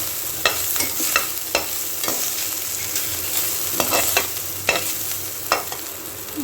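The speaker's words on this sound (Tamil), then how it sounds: "இப்போ தேங்காய் துருவலை கொட்டுங்க. நல்லா ரோஸ்ட் பண்ணுங்கள்." Grated coconut is roasted in a pan after fried raisins for sweet gram dal puttu, with repeated scraping stir strokes over a constant close sizzle.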